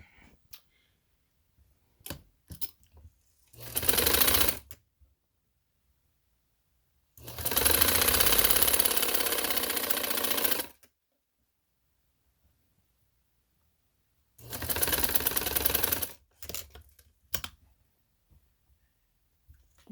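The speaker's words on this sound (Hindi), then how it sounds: "चले इसको मैं सिलाई आप लोगों के सामने लगाती हूँ" A sewing machine stitches a leaf frill onto a trouser leg in three separate bursts of rapid, steady whirring, each a few seconds long, with quiet gaps and small clicks between runs and no talking.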